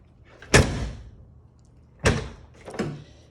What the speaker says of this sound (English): Just give it a nice solid swing and it'll close completely.